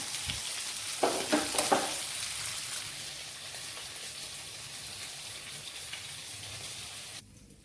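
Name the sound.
karimeen (pearl spot fish) frying in a pan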